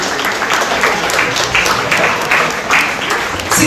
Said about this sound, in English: A round of applause for these children.